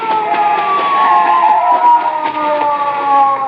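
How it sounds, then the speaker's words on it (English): A police car siren wails loudly and steadily, its tone sliding slowly downward as it carries on, with no voices, in a 1953 radio drama. "A police car."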